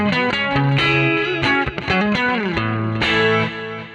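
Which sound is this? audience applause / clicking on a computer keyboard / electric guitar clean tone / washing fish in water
electric guitar clean tone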